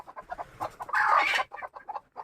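Native gavran country hen, broody and sitting, clucking in a rapid run of short close clucks with a louder squawk in the middle, then more clucks.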